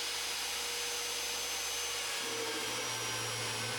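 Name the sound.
drilling bolt holes for truck suspension mounting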